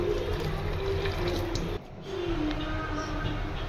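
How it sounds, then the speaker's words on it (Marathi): Hot water poured into frying misal masala for homemade misal pav, a steady watery hiss and bubbling that runs almost without break, dipping briefly midway before resuming. "त्याच्यामध्ये आपण बाजूला करायला ठेवलेलं गरम पाणी ते ओतायचं आहे"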